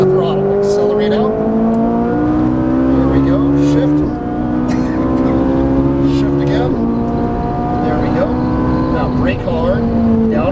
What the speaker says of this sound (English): Now beat in the throttle, accelerate out.